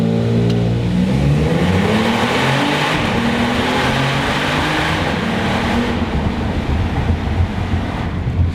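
A 2022 Genesis G70 in eco mode downshifts, its engine revs rising and falling in steady stepped tones beneath loud road and wind rush inside the moving car.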